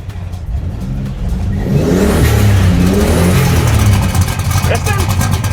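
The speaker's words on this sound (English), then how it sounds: "It's one of the loudest cars I've been in." A very loud car linked to the Fast & Furious films revs hard up close, its engine pitch climbing and holding a sustained roar for several seconds.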